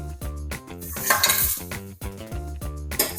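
Whole spices such as star anise, cloves, cumin and bay leaf stirred and fried in a pot for mutton pulao, with repeated metal scraping and clinking over a steady sizzle, close and fairly loud.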